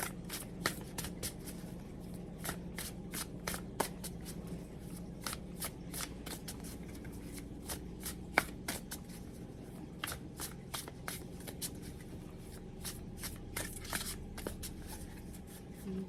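An oracle card deck being shuffled close up, with rapid, repeated riffling snaps and soft papery slides that continue steadily for several seconds, without any talk.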